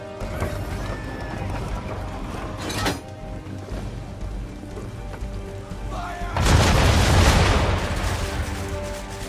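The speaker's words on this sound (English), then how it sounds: "Now, aim all guns at her bow and do as much damage as possible." Ship cannons fire at an enemy vessel during a naval battle in Assassin's Creed III, with a brief boom near three seconds and a loud, sustained crashing barrage from about six and a half seconds amid background music and game noise.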